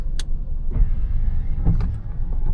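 A car drives along a road in New Zealand, its engine and road noise a steady, close, low rumble inside the cabin, with a few small clicks and rattles on top.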